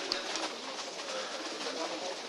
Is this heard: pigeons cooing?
yes